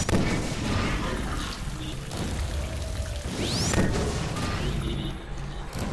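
Gunfire in Half-Life 2 comes as rough, noisy bursts of shots and crashing impacts, loud and continuous over a dense game backdrop.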